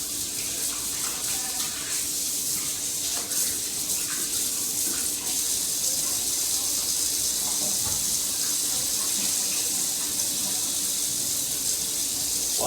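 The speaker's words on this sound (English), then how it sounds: "Washing hands straight." Tap water runs steadily and fairly loud as hands are washed at a kitchen sink after handling salted carne seca for feijoada, a continuous broadband hiss with faint clinks and no talk.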